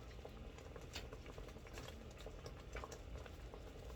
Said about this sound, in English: that's a full rolling boil